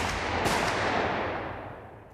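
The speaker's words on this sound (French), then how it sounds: "des coups de feu résonnent dans le hall d'entrée du tribunal" Gunshots ring out in a courthouse entrance hall, a loud burst with a sharp crack partway through, then a long reverberant echo fading away.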